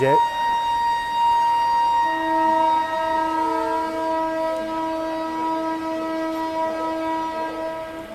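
A departing Amrit Bharat Express train at Varanasi sounds a long, loud horn chord that holds and slowly shifts over a continuous rumble of rolling wagons, with a voice briefly heard.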